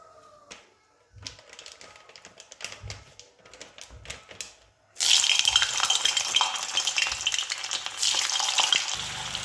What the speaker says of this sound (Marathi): आता आपण एक कढई गरम करायला ठेवलेली आहे। त्याच्यामध्ये तेल ओतून घेते आणि आपलं पनीर छान तळून